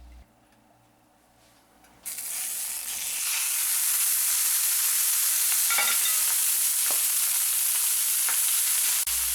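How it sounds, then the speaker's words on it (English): Prime rib roast sears in a hot cast iron pan: after a quiet start, a loud, steady sizzle bursts in and holds close and bright, with faint scrapes underneath. "we sear the outside of the roast in a hot cast iron pan"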